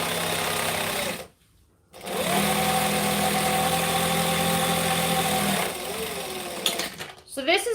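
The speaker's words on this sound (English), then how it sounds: "So this is a speed sewing video." Sewing machine sewing a Denver Mini bag at speed, a loud, steady mechanical hum running close up in long stretches, stopping briefly near the start and again near the end, with no voices.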